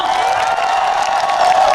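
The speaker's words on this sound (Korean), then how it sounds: "좀더 크게 박수 부탁드리겠습니다." Dense crowd of cheering and applause at an outdoor township-day celebration concert in Yeoncheon, steady and loud throughout with whoops rising over sustained clapping.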